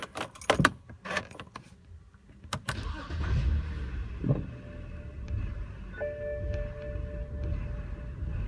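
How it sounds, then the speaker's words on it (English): A BMW 5 Series with the air conditioning on starts up with keys jangling and a starter crank, then settles into a steady, rough, vibrating idle with a faint whine, loud and close throughout. "I'm gonna turn on the car with the AC on."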